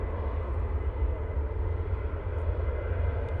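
An SAS airliner touches down at Manchester Airport, heard as a steady, heavy low engine rumble that stays constant throughout, with no talk over it.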